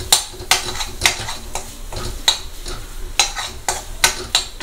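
Crushed garlic and ginger fry in a hot pan for sambar, a steady sizzle broken by regular scraping stirs about every half second, close and fairly loud with no talking.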